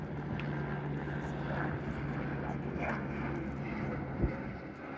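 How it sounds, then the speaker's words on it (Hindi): A helicopter flies overhead near a mountain peak, its steady low droning hum running continuously beneath loud outdoor ambience, with people talking nearby. "हेलीकॉप्टर उनको ऊपर टॉप पे लेके जा रहा है"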